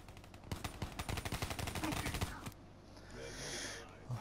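Rapid shotgun fire in Call of Duty Black Ops 3 Gun Game crackles as a dense burst of roughly a dozen sharp, loud blasts over two seconds, then gives way to quieter game ambience.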